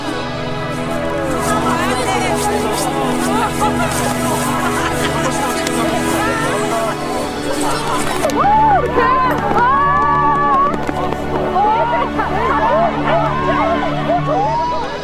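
A crowd outdoors under the aurora lets out wordless shouts and cheers, a dense continuous roar of many voices with excited whoops rising over it, loud and close throughout.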